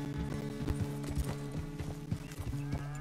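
Horse hooves clip-clopping on the ground in Red Dead Redemption 2, a steady walking rhythm of close hoofbeats with faint tack jingle and a soft whinny, no talk.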